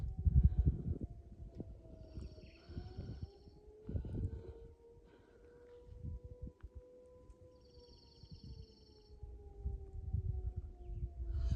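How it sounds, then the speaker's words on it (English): A distant siren wails with slow rising and falling tones, sounding faintly over wind noise and rumble, with no talking. "I don't know if you can hear that, but the siren's going."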